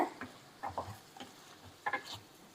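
Chicken chukka gravy lightly stirred in a pan, a few soft scraping strokes and gentle taps of the spoon, quiet and close with a faint simmer underneath.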